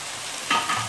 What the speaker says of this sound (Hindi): ये हमारी सब्जियां जो है फ्राई हो गई हैं।